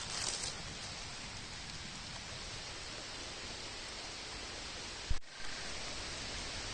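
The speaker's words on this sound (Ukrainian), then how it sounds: "Дощик почав падати дрібний." Light, fine rain falls steadily in a Carpathian forest, a soft even hiss with one brief thump near the end and no voices.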